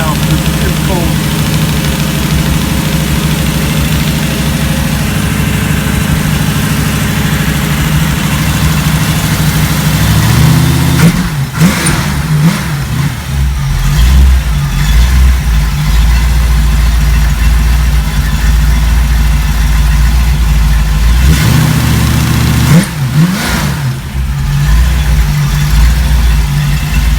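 A cold car engine idles high on the fast idle cam, a steady low rumble broken by two short revs partway through.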